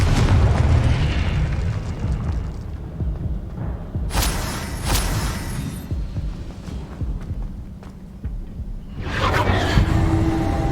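A Confringo blasting spell in Hogwarts Legacy goes off as a deep booming explosion. Several heavy thuds and bursts come over a low rumbling background.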